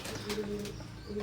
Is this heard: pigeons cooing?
yes